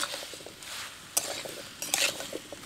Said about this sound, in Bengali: ওলটাকে খুব ভালোভাবে নেড়ে নেব